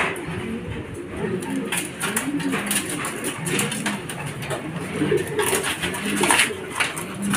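A racing pigeon arriving at the loft after a hard derby race from Legazpi, Albay, with soft cooing and fluttering amid busy background noise, while someone talks intermittently over it.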